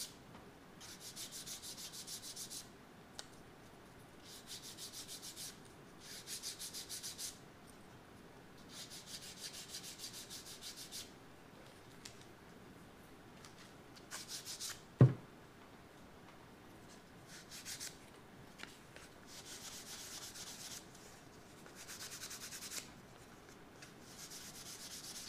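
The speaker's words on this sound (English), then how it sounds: "sand your rudder down real nice too." Sandpaper rubs back and forth over the balsa wood rudder of a small Carbonette 8 model airplane in quiet, rhythmic bursts, with one sharp tap partway through.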